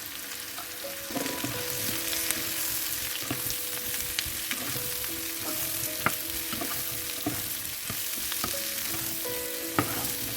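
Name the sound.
chopped zucchini frying in a pan with turmeric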